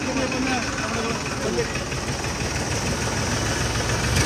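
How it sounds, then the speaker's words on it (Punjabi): A tractor engine runs in floodwater during a relief effort, a steady low chugging drone with knocking pulses that holds for the whole stretch, fairly loud and close. "ਪਿੱਛੇ ਦੂਏ ਟਰੈਕਟਰ ਆ ਰਹੇ ਨੇ"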